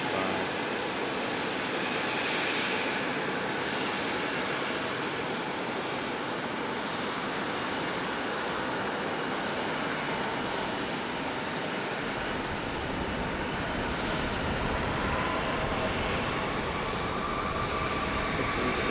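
An Embraer E175 jet passes at an airport, a broad steady engine roar holding loud and even throughout with no voices.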